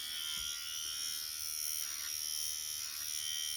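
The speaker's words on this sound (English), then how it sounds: "It's an electric razor and trimmer. It comes with a trimmer head" A MOW electric razor running with its trimmer head attached gives off a steady, close, high-pitched buzz throughout, with no speech.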